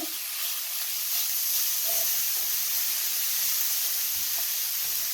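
Onions seasoned with salt and pepper fry steadily in a pan, giving a constant soft sizzling hiss with a few faint pops, no voices over it.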